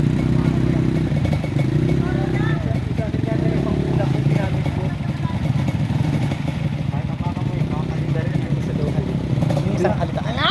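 Many motorcycles on a muddy road, a busy mix of engines revving and puttering with rattling clatter throughout, people talking over the noise.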